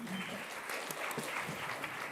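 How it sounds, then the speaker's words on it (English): Audience applause for a civic engagement panel, steady even clapping at moderate distance throughout, with a little crowd noise underneath. "Let's give them another big round of applause."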